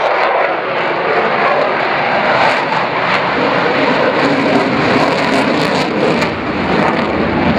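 A fairly heavy aircraft flies slowly past at the Lowestoft air show, its engine a loud, steady drone that holds the whole time without talk.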